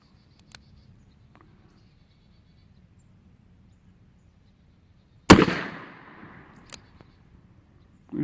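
An old Smith & Wesson Model 1917 revolver in .45 ACP fires a single loud, close shot with a short decaying echo, after near silence broken by faint clicks. A second sharp report begins right at the end.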